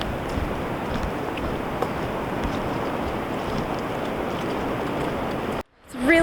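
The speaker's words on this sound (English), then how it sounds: "It's really starting to rain again." Steady, dense hiss of rain falling continuously on a beach, fairly loud, ending in a brief dropout near the end.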